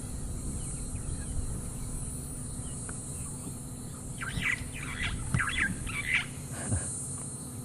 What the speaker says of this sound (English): That's the Burchell starling, one of 5 starling species we get here.